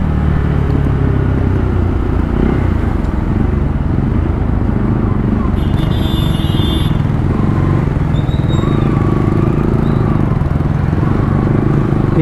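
Motorcycles on a group ride, a steady loud engine rumble running the whole time with wind buffeting, a few horn-like tones and faint voices underneath.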